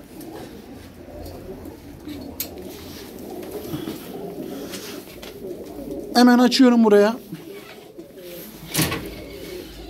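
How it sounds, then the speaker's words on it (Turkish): Pigeons cooing in a low, steady murmur with a louder rolling coo partway through, while someone talks over them inside a pigeon shop in İzmit, Kocaeli. "çok güzel kuşlar var arkadaşlar"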